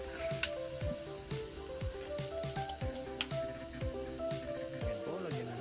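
Garlic, pork and onion sautéing in a pan, a soft sizzle with scraping stirs and clinks, a voice talking throughout.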